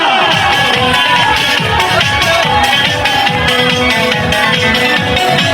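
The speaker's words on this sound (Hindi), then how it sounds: "माशाल्लाह, बहुत तालियां" Large crowd at a prize ceremony in Sialkot clapping and cheering loudly and continuously, with rhythmic applause and shouts filling the whole stretch, no clear talk over it.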